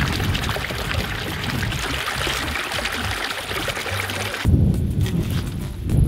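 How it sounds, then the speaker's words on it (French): Laundry hand-washed outdoors in basins with water and soap in a mountain meadow, with continuous sloshing, swishing and pouring water up close and a louder splash near the end. "je me mets dehors avec des bassines et de l'eau et un peu de savon à la main et on lave tout ça"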